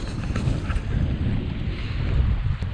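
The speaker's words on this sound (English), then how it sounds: "that northerly wind, we still have it here" A northerly wind blowing over a fishing boat off west Clare, a continuous rushing buffet against the microphone with soft water movement beneath, steady and unbroken.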